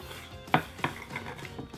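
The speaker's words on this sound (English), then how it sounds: "all we're gonna do is chop these just a little roughly to break them up a little bit" A knife roughly chops nuts for babka on a board, two sharp close thuds followed by softer knocks in a quiet kitchen.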